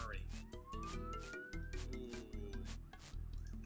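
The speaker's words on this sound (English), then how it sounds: "Soon the ambulances leave in a hurry." Ambulance sirens in Old School RuneScape: wailing, rising electronic siren tones over a busy game soundtrack with rhythmic low beats, moderately loud and continuous.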